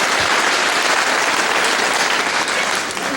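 Crowd at a wrestling show in a leisure centre applauding steadily, a dense, loud wash of clapping that holds throughout and eases slightly at the end.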